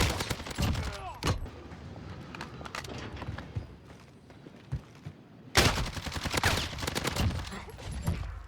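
Video-game gunfire while aiming with a Cronus Zen: rapid bursts of automatic shots rattle continuously, fading into a quieter stretch of scattered pops before a loud dense volley returns, with no talking.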